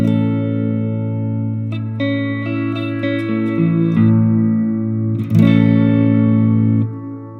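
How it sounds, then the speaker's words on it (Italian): An electric guitar played through a Positive Grid Spark amp with reverb at maximum rings out in sustained, layered notes with a clear attack and a long smooth tail, loud and alone, without any talking. "mantiene la punta iniziale del suono, nonostante il riverbero sia al massimo, e ha una coda lunghissima, che però non è un delay"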